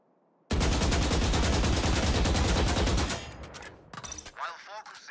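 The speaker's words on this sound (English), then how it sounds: "fire a full magazine into the target" Sustained automatic gunfire from a Valorant firing-range tutorial, a full magazine emptied in one continuous, loud burst of rapid shots lasting about two and a half seconds, followed by quieter game sounds and reload or menu noises.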